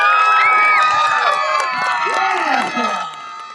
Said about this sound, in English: Yelling, screaming, whistling, cheering.